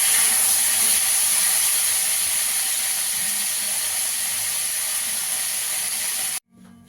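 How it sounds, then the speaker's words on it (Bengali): Cauliflower pieces fry in hot oil left from frying potatoes, browning toward a reddish color: a steady, loud, bright sizzling hiss runs unbroken for about six seconds, then cuts off abruptly. "ফুলকপিটা একটু লাল করে ভেজে নেব।"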